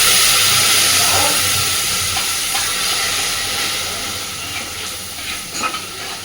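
Spice paste (masala) sizzles and hisses loudly in a frying pan as a little water is added, a dense steamy crackle that slowly settles and fades over several seconds with no voices.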